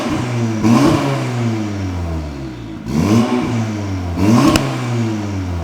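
A Cupra Ateca with its GPF deleted revs in comfort mode, three quick throttle blips that rise and fall over a steady idle, with a slightly tinny, raspy exhaust note heard up close.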